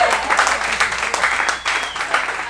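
Audience applause for comedians at a beer company comedy gig in Laguna Beach, a steady, dense wash of clapping that holds for the whole stretch with slight swells, fairly close.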